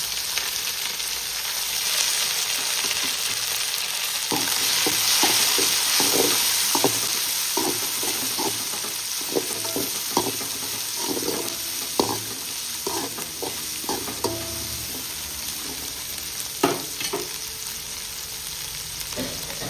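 Onions sizzle and crackle as they sauté in hot oil with popping mustard seeds, steady close frying with frequent stirring scrapes and clatters throughout, no voices.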